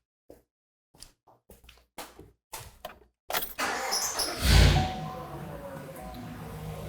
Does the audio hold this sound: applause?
no